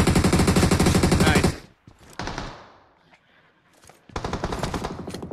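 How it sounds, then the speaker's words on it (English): Rapid automatic gunfire in the mobile battle royale game PUBG Mobile, loud and close, with a long burst, a pause with single shots and a fading echo, then another sustained burst. "Somebody's shooting."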